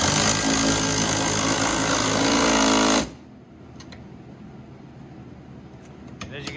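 A loud power tool drives a 13 mm socket on a long extension while mounting a dash unit on a Carryall 500 electric vehicle, a harsh steady rattling whir for about three seconds, then stopping into quiet with faint clicks.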